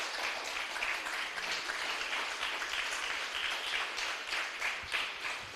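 A church congregation applauds during a Spanish-language service, a soft, even wash of many hands clapping at a distance that stays fairly constant throughout.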